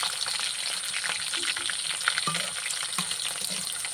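Garlic frying in a generous amount of oil for a mutton pickle gives a steady, close sizzle with a few soft stirring knocks, and no one speaks.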